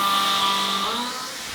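Tormach face mill cutting metal at a 30 thousandths depth, a steady high-pitched whining screech with tonal ringing that shifts slightly in pitch, loud and continuous through a short stretch, no voices.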